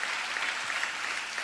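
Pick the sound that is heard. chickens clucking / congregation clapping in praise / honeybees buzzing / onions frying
congregation clapping in praise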